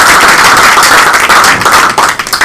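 Loud, dense applause from a sales-meeting audience at an awards event, a continuous wash of many hands clapping close by, with a few sharper claps standing out near the end.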